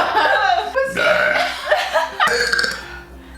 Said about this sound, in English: Oh, the baby burp.